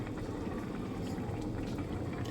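Thai green curry with chicken and chicken feet bubbles in a pot, a continuous close, low gurgling simmer with no voices.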